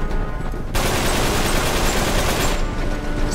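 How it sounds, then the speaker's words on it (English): Dense, continuous gunfire from a firefight in Uncharted 3: Drake's Deception, a sustained roar of overlapping shots that kicks in abruptly after a brief quieter lead-in and stays loud throughout, with no talking. "I keep feeling like there's somebody shooting me from behind."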